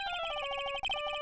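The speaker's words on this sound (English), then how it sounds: "I bet it was this ringtone that caused it." A phone ringtone in Phoenix Wright Ace Attorney video game, a quick run of bright electronic beeping tones, close and clear, lasting about a second.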